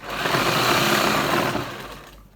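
A sewing machine runs in one continuous burst while stitching the waistband belt of a palazzo pant, with a loud, close, rapid mechanical whirr that slows and fades at the end.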